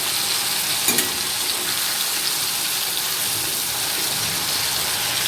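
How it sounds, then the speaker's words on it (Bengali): Fish fries in oil with turmeric in a wok, giving a loud, continuous hissing sizzle with small spitting pops throughout. "যদি নর্মাল তেলে যদি আমরা মাছ দিই ছিটকে ছিটকে হতো।"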